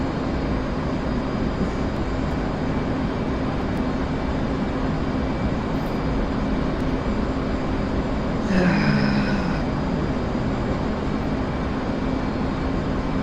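A plane taking off in the DCS flight simulator game: a steady, loud engine roar that holds throughout, with a brief rising whine layered on top near the end.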